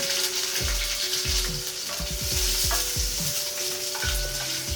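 Cumin seeds, a pinch of asafoetida and a lengthwise-slit green chili frying in leftover oil for navratan korma, a steady bright sizzle with repeated low thumps and scrapes of stirring, no voices.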